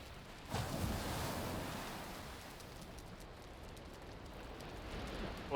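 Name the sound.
water sounds near raft in video game Valheim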